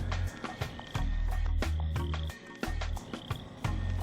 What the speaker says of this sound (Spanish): Aquí tenemos un hílido, anteriormente teníamos un filomedusino, la cerulia, esto es una rana australiana